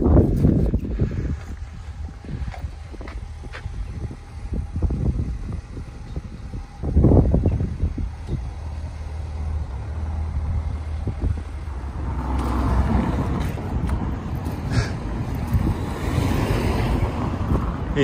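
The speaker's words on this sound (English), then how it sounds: "dry for now, but windy." Steady wind roars and buffets against the microphone throughout outside a clay cabin, a loud continuous rushing with gusts swelling and easing, no voices.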